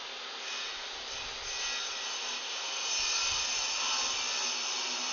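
A hand saw cuts wood along a kerf in a workshop, producing a steady, close rasping stroke sound that builds slightly in loudness with no talking.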